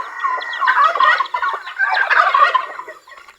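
Several farmyard turkeys gobble in overlapping bursts, fairly close and clear, with no talking over them.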